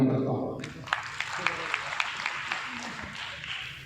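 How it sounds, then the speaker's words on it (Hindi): Steady applause from an audience at a National Service Scheme foundation day and state honours ceremony, sustained clapping from a crowd with a few sharper claps standing out, and a voice briefly heard at the very start. "विकास उपाध्याय के उद्बोधन के दौरान हर एक मिनट पर तालियों की गड़गड़ाहट"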